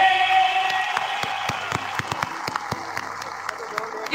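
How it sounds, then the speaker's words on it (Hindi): An audience claps at a Hindi religious discourse on cow welfare, a dense patter of hand claps that gradually thins into scattered sharp claps, heard alongside a sustained tone from the stage. "तालियां रुकनी नहीं चाहिए।"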